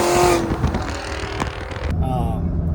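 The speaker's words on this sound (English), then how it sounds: "It is that throaty Hercules type sound coming out of the back of this big black caddy, and it is hauling ass." Throaty exhaust from a big black Cadillac Escalade V with all-wheel drive and bolt-on upgrades, roaring loudly as it accelerates hard, then settling into a steadier drone under a voice talking.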